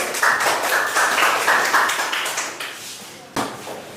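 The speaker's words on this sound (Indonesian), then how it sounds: "Ya, beri tepuk tangan dulu." A classroom of students clapping their hands after a group presentation, loud and close, with scattered claps thinning out before a final burst near the end, and speech-like sounds mixed in.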